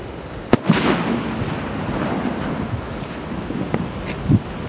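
A Diwali firecracker bursts with one sharp crack near the start, followed by a rumbling, windy outdoor wash and a few fainter pops and thuds further off.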